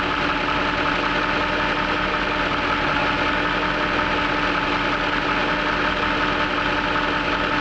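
Steady idle of a Jaguar XK8 car engine, running continuously and loudly up close with an even low rumble and no speech.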